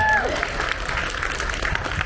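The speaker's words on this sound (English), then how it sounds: "Can we get a round of applause for" Audience applause at a young entrepreneurs forum, an even patter of clapping with a voice briefly audible at the very start.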